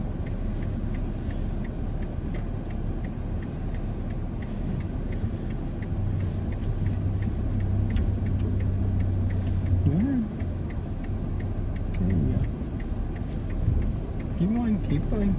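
A car rolls slowly near a house and pool with a steady low engine drone and faint ticking, while people talk over it at close range.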